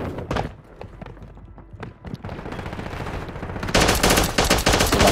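Call of Duty gunfire, scattered single shots at first building into dense, loud rapid automatic fire toward the end.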